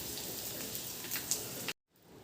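Mustard seeds, cumin, dried red chillies, curry leaves and asafoetida sizzle in a spoonful of hot oil in a kadai, a steady crackling hiss with faint pops that cuts off abruptly near the end.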